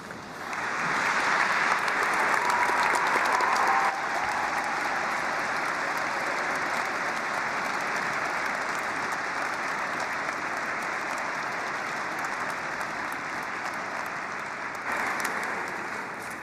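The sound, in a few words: applause for graduates in York Minster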